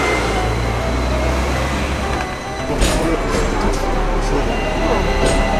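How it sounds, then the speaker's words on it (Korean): A tram in Hong Kong rumbles and clatters along rails with a steady low roar and occasional rattles, while people talk over the noise. "철길이 있어. 타닥타닥 타닥 기차 소리가 난다."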